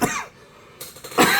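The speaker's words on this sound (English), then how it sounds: "I'm coughing." A person coughs close to the mic, one sharp burst at the start and another near the end, with a quieter rough stretch between them.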